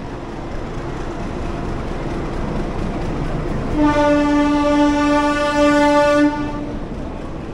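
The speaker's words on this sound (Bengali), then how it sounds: "আর এই যে আমাদের ট্রেন ঢুকছে কামরূপ এক্সপ্রেস।" The Kamrup Express train rumbles into a station under steady noise, then a loud, sustained horn blares for a few seconds as it approaches nearby.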